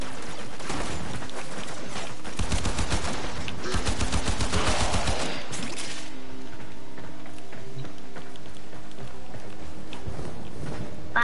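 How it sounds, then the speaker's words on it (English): Shotgun fire in a video game comes as a cluster of rapid, loud, cracking shots packed into a few seconds, then gives way to quieter background game sounds. "Time to get out my shotgun."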